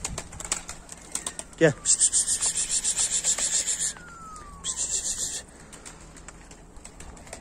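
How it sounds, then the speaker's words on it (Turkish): Pigeons in a garage startled by a crow burst into flapping wings, a rapid run of wingbeats for about two seconds, a pause, then a shorter second burst, with a brief word spoken just before. "Bu arada karga geldi. Kuşlar korktu."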